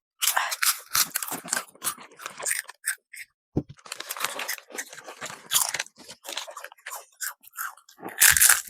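Someone bites and chews crunchy Lays Kurkure snack chips close up, loud irregular crackling crunches in bursts with brief pauses between mouthfuls.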